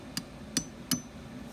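A hammer strikes a 1/8 inch punch three times to drive a stainless roll pin through an impeller shaft. Each blow is a sharp metallic tap, evenly spaced and close.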